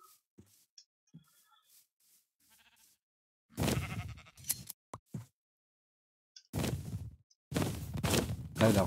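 Sheep in a video game bleat in two loud, close bursts, each made of several wavering calls, separated by near silence and a few faint clicks.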